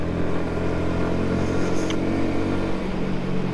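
Yamaha MT 125 motorcycle under way at speed, its engine droning steadily and close with a slight rise in pitch toward the end, over continuous wind and road noise.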